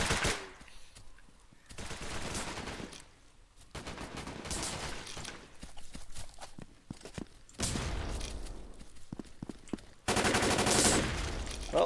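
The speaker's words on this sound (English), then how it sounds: "the F2000 really does fire quite quickly" An F2000 rifle in the BRAIN / OUT video game fires rapid automatic bursts, several sharp sustained volleys separated by short pauses, loud and close, with no talking over them.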